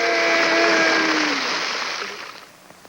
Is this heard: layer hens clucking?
no